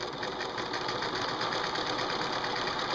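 Sewing machine stitching squares of light cotton quilt fabric sewn back to back, a steady, fast mechanical whir with rapid even needle clatter running unbroken and close throughout.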